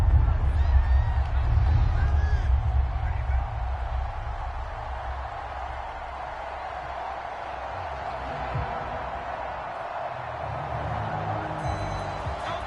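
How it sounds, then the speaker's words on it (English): A large crowd at an Eagles vs Cowboys American football game roars loudly and steadily at fever pitch, a dense wall of cheering and hubbub that fades slightly midway before swelling again. "Work to do here with a crowd at fever pitch."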